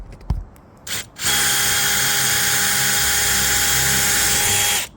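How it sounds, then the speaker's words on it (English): Power drill pre-drilling pilot holes for a patio roof riser bracket into a stud or rafter, with a short trigger blip followed by a loud, steady high-pitched whine held close for several seconds before stopping. "Just put a little bit, just do a little pre-drill so I can mark my holes here."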